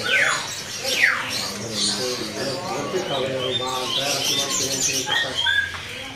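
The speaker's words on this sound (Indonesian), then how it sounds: "Pemirsa di kios ini masuk ya burung cicak cungko nih" Many caged birds chirping and squawking at a bird-selling kiosk, a dense overlapping chorus of calls close by, with a voice talking through it.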